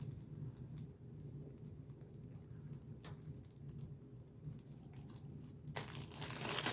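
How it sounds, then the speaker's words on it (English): A small plastic baggie is crinkled and pulled open in quiet, faint rustles, with a few sharper crackles and a brief louder tearing burst near the end. "So I can get the little baggie open."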